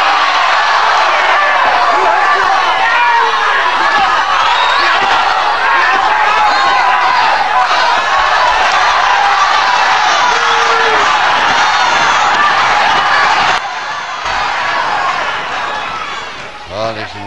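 A boxing crowd at the Johnny Kincaid vs Johnny 'Tarzan' Wilson fight roars and jeers steadily, a dense wall of loud voices and cheers under a commentator talking throughout, dipping briefly near the end.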